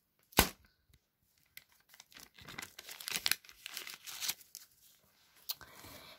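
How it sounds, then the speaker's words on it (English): A triangular origami paper banger made from folded A4 paper is flicked down hard. A sharp pop is followed by several papery crinkles, snaps and rustles at close range. "a paper banger, which is like a triangle, and if you flick it down really hard, it'll make a loud noise"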